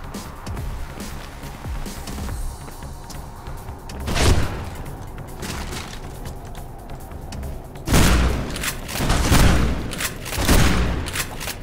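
Gunfire in the video game Mirror's Edge, a few loud booming shots, one isolated and then a cluster of several bursts, over a steady rumbling game background.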